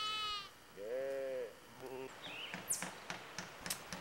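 Lambs bleat on a farm in Somerset during lambing season: several clear, wavering bleats up close, followed by softer chirps and scattered light knocks.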